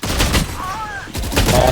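Gunfire from a competitive video game match, sharp close shots in quick bursts with a short gap between them.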